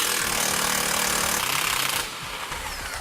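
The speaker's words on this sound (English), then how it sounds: "We now need to remove the 17mm bolt that connects our control arm to our spindle." A power tool, likely an impact gun, loudly removes the 17mm bolt joining a control arm to the spindle on a 2010 vehicle during an air helper spring install. The noise rattles steadily, then eases to a lower whir partway through.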